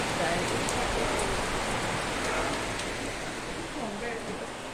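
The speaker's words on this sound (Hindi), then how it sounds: "इतनी तेज से आया है बारिश" Heavy rain pours down in a dense, steady hiss that fades slightly toward the end, with a voice speaking over it.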